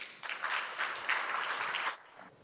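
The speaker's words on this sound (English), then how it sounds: "Please give them a round of applause." A short burst of audience applause at a luxury travel event, lasting about two seconds before it drops off quickly.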